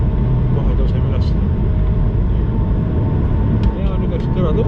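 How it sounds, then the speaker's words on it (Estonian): Airplane accelerating down the runway for takeoff, heard from inside the cabin as a loud, steady low engine roar and rumble filling the space, with a voice speaking over it. "Kiirendame, kohe tõuseme üles."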